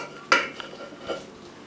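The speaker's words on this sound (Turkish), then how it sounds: "elmalı harcımızı alıp içine iyice yayıyoruz" A spoon knocks sharply against a baking tray while apple pie filling is spread across the dough, one bright metallic clink followed by softer scraping taps.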